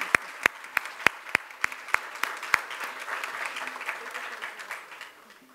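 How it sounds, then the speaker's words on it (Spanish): Audience applause at an inaugural forum on the rights of Afro-descendant people, opening with several sharp, distinct claps that swell into a dense, steady round of clapping from a seated crowd before fading out toward the end. "Un aplauso"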